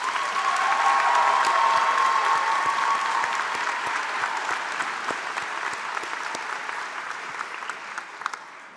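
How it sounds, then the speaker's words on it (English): Sustained applause from a nursing pinning ceremony crowd for LPN graduates at Alpena Community College, loud and steady at first and then thinning gradually, with scattered individual claps standing out. "One last round of applause for all of our LPN graduates."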